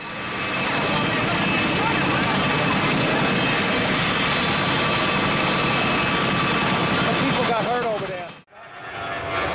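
A V-22 Osprey tiltrotor aircraft lands in a New York park: a loud, continuous rotor and engine roar that holds steady, then cuts off abruptly near the end, with a voice speaking over it.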